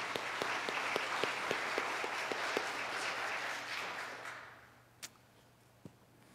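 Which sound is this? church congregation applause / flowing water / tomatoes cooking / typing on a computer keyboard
church congregation applause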